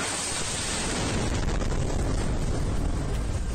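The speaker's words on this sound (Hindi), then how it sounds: "तभी एक बड़ा धमाका होता है" A huge blast becomes a dense, roaring wall of noise that holds at full strength for several seconds without easing.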